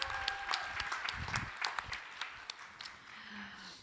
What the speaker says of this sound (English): Another round of applause to our pitcher.